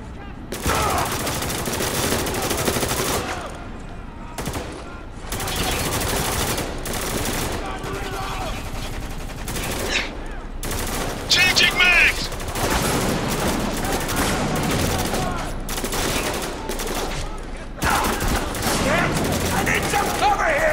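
Heavy automatic gunfire and rapid shot bursts from Spec Ops: The Line during a battle at a gate, loud and near with short pauses between volleys, while soldiers' voices shout over the shooting.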